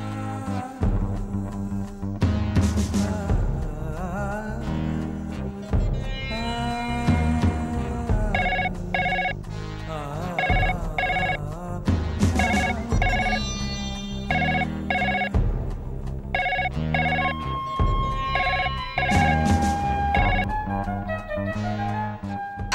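A telephone ringtone plays a loud, repeating electronic melody in close, bright bursts with short gaps between phrases, continuing for over twenty seconds with no voices.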